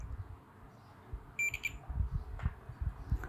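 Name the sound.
continuity tester beeping when probing a laptop capacitor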